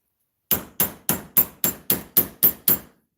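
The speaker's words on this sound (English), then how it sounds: "I think I should grab a hammer because I don't think that's moving." Nine sharp hammer blows land at an even, steady pace on brushless motor parts, each strike bright and metallic with a quick decay, close and loud with no talking.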